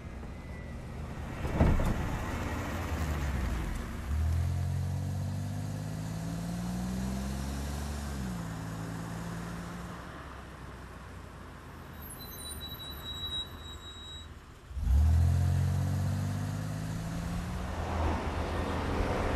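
A car engine hums steadily from inside a moving vehicle, with a couple of louder thumps and gear-like shifts in pitch.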